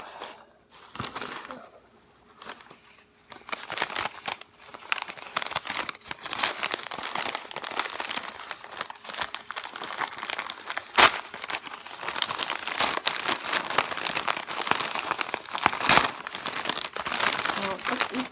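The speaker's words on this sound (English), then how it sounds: "Well, just eat the paper then." A pet chews and crumples paper close by, bursts of crinkling and tearing that grow busier and louder over the span, starting after a quiet stretch, with a person speaking at times.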